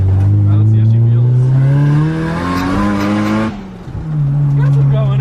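A right-hand-drive Nissan S13 accelerates hard from inside the cabin, its engine note climbing steadily through the gears with a brief dip at a shift, loud and close, while people talk over it.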